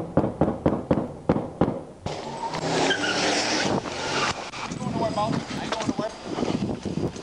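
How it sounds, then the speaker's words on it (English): During a police traffic stop beside a police car, a rapid series of about eight loud gunshots cracks out close by, then gives way to shouting voices, commotion and engine noise. "Shots fired on my behalf."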